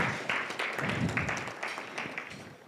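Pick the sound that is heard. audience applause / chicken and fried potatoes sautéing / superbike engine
audience applause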